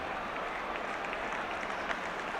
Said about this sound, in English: but the crowd applaud nonetheless